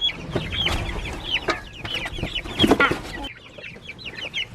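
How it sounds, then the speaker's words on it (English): Little chicks being moved to join the main flock make high, quick peeping clucks that come in short overlapping bursts. They are close by and fairly lively, with no voices. "Now let's get these little chicks out of here and up there with the main flock."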